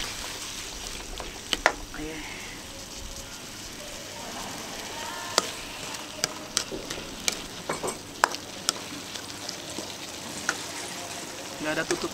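Pineapple sambal fries in a pan with a steady sizzle and scraping stir strokes, broken by sharp utensil clicks against the pan, all at a moderate, close level with no voices.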